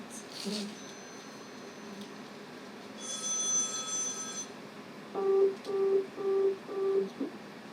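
A telephone busy signal in a radio drama sounds as four evenly spaced, identical tone pulses near the end, preceded by a brief steady ringing tone over a faint background hiss.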